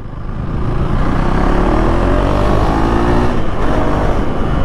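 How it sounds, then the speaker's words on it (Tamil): A Husqvarna Svartpilen 401 motorcycle's exhaust gives a continuous, fairly loud, throaty drone under steady throttle, with no talk over it. "நீங்கள் வீடியோஸில் கேட்குறத விட எக்ஸாஸ்ட் நோட் நேரில் கேட்குறதுக்கு சூப்பராக இருக்கும்."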